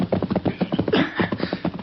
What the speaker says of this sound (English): He reined up his horse and dismounted.